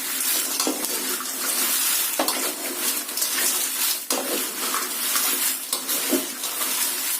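Sun-dried red chillies frying in oil in a pan before being ground into chilli powder, a steady loud close sizzle with occasional scraping stirs and crackles and no talking.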